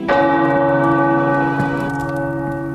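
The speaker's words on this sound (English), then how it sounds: "The tower bells are ringing." Tower bells peal in the video game Marvel's Midnight Suns, one loud resonant strike ringing out with a rich sustained hum, followed by lighter overlapping tolls that slowly decay.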